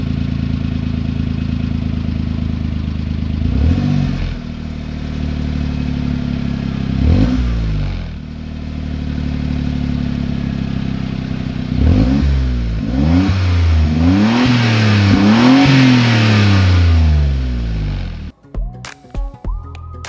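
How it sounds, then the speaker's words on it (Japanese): A car engine breathes through a large-bore HKS Silent Hi-Power muffler, idling with a low, subdued rumble between several short revs that rise and fall, then a burst of longer revving before the sound cuts off with a few clicks. "マフラー音はこんな感じ。"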